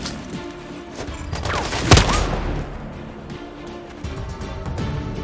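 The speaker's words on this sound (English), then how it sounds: "I'm listening to gunshots here!" A burst of rapid gunfire in the video game Sniper Ghost Warrior Contracts 2, with a sharp loud crack near the middle, surrounded by dense rattling shots and background din.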